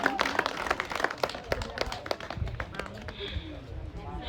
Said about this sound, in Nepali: एकपटक जोरदार ताली बजाएर उहाँहरूलाई सम्मान स्वरूप धन्यवाद दिइदिनु हुन हार्दिक